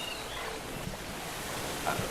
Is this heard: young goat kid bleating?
no